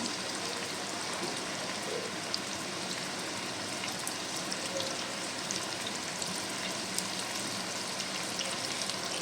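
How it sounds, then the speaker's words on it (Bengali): Bitter gourd pieces fry in white oil with a steady, dense sizzle and crackle that stays even and close throughout, with no voices. "করলাগুলোকে আমি প্রথমে কড়া কড়া করে ভেজে নেব"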